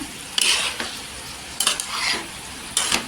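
Potatoes with coriander sautéing in oil in a pan, a steady close sizzle punctuated by three bursts of spatula stirring and scraping.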